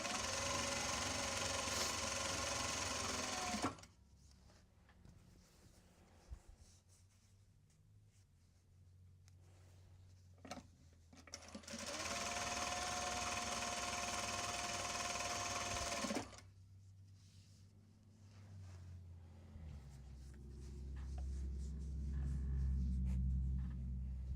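A sewing machine stitches Japanese fabric project bags in two long steady runs of rapid whirring, each separated by quieter pauses filled with handling noise, and a low rumble closes the sequence.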